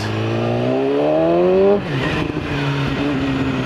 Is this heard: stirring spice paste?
no